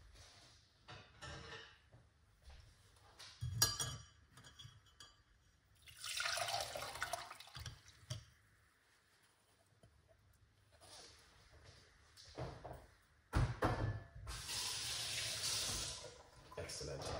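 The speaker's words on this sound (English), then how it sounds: "So what we're gonna do is run it through our strainer." A homemade ginger and lemon detox drink made with Jamaican ginger is poured through a kitchen strainer in several splashing, trickling bursts, with pauses of quieter dripping and a voice talking in between.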